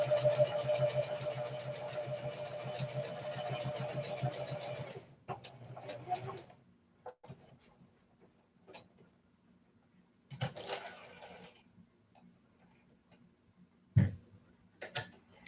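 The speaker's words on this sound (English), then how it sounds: "I'm just making a buttonhole." A sewing machine stitches a buttonhole in stretchy cloth, a rapid close mechanical chatter for about five seconds, then near quiet with scattered soft clicks and handling noises.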